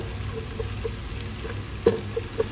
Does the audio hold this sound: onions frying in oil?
yes